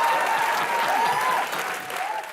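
A studio audience at a televised Hindi comedy show breaks into sustained applause, a dense, loud wash of clapping that holds for over two seconds with a faint voice underneath.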